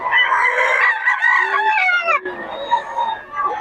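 A gamefowl rooster of the Golden Boy type crows loudly and close by in one sustained, wavering call that breaks off partway, with faint background noise.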